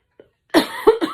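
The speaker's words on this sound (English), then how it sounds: "Hold on, I got a cough." Two or three sharp, close coughs in quick succession after a brief faint sound, loud and abrupt, no talking.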